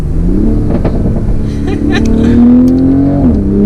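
A 2020 Toyota GR Supra 3.0 engine drones loudly and rises in pitch as it revs, its rumbling stock exhaust heavy throughout, with a voice briefly underneath.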